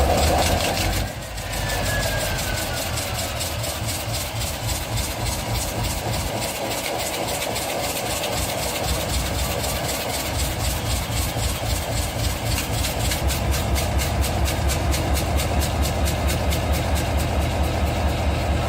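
A GE U-23B diesel-electric locomotive, a 2,250 horsepower unit built 1968 to 1977, runs through a cold start after years idle, its heavy engine chugging in a steady, loud low throb that holds throughout with no talk.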